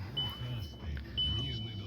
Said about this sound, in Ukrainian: Сигналізую, що я не простебнутий.